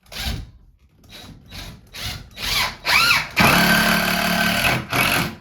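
A power drill driving screws into wooden garage shelving, several short whirring bursts followed by a longer sustained run as a screw seats, close and loud with no talk.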